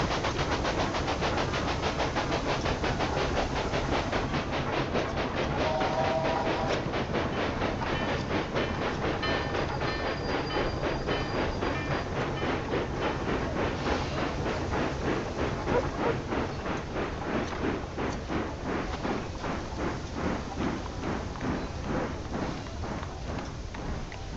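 A train rolls along the tracks in the railway management game Railway Empire 2, a continuous clickety-clack of wheels over rail joints with engine rumble, steady and loud throughout.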